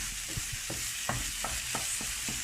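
Honeyed red pumpkin dessert simmers and sizzles in a pan, a soft steady crackle with irregular scrapes and taps of stirring, close and fairly quiet.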